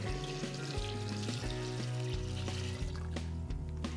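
Vegetable broth is poured into a pot for a vegan corn and potato chowder, a steady watery splash and sizzle running throughout, close and even, while a low musical bed plays underneath.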